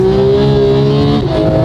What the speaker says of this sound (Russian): машина, машина.